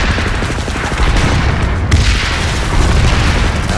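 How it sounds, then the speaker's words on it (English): Grenade blasts mixed with rapid gunfire during a point fight in a video game match, loud and dense, with booming impacts and rattling bursts overlapping throughout. "Lots of grenades being exchanged here."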